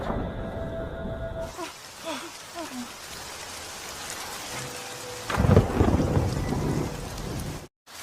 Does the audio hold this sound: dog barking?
no